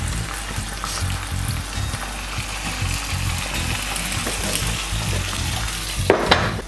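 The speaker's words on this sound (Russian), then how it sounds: "куриные яйца жарятся" Chicken eggs frying sunny-side up in a pan for a French-style breakfast give a steady, close crackling sizzle throughout, with a brief clatter near the end.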